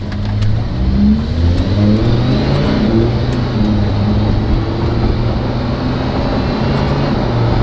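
Lamborghini Huracan fitted with a titanium Ryft exhaust accelerating on a test drive, a loud, steady engine roar with rising and falling tones throughout, heard close with no speech.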